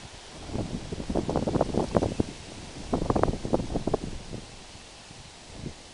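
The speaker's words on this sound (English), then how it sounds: "Probably be easier if there wasn't this wind out here." Outdoor wind buffets the microphone while fishing flies are tied, coming in loud irregular gusts and rumbling bursts with quieter lulls between.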